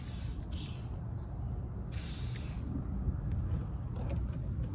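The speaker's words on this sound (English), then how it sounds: "Spray the crap out of that pin." Lubricant sprayed hard onto a trailer winch pin, a continuous aerosol hiss in two strong bursts over a steady outdoor rumble, close and loud.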